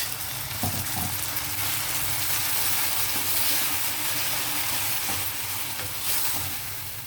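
A mixer grinder runs continuously with water added after grinding gongura chutney, a steady dense whirring roar at constant loudness throughout, close and without speech.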